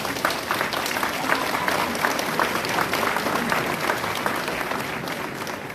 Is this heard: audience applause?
yes